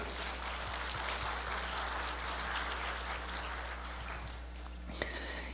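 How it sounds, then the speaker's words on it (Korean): A church congregation at a New Year special dawn prayer service claps together, a steady wash of applause that holds evenly and then thins out near the end, fairly distant in a large room. "모든 하나님께 영광의 박수 올려드리겠습니다."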